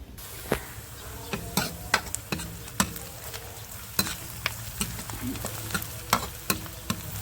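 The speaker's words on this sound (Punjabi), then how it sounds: "ਹੁਣ ਪਾਣੀ ਦੇ ਵਿੱਚ ਆਪਾਂ ਕੱਢ ਲਈਏ ਕਿਉਂਕਿ ਆਪਣਾ ਤੜਕਾ ਭੁੱਜ ਚੱਲਿਆ" Onion tadka sizzles steadily while frying in a pan, with repeated sharp stirring scrapes of a spoon against the metal at an irregular rhythm, close and moderately loud.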